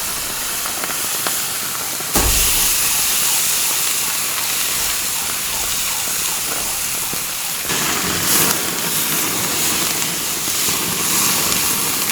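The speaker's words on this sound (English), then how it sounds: "there's a lot of fat on that, and it's melting and catching on fire" Melting fat sizzling and flaring on a grill: a loud, steady broadband hiss that swells abruptly after a couple of seconds and surges again later, with no talk.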